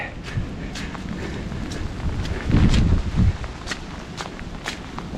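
Wind gusts buffet the microphone while boots squelch through mud in a steady walking rhythm, with a heavier burst of steps and rumble midway; no talking.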